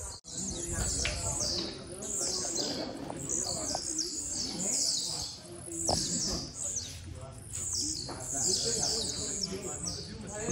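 A tiziu, or blue-black grassquit, sings at a bird tournament, repeating short, bright buzzy chirping phrases in a steady rhythm, close and clear against a low background rumble.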